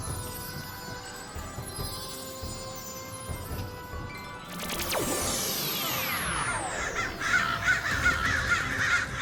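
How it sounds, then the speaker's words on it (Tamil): Crow cawing in a cartoon-style scene, loud harsh calls rising over a busy background with whooshing sweeps midway through; no talking. "இந்த காக்கா என்ன ஃபாலோ பண்றதை நிறுத்தவே மாட்டேங்குது."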